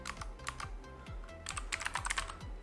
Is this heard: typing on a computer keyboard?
yes